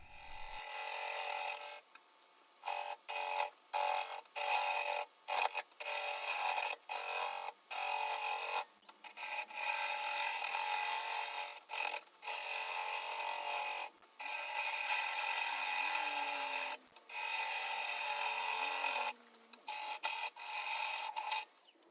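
A turning tool cuts into maple burl on a wood lathe, giving a steady scraping, rasping whir that starts and stops in repeated bursts, close and alone.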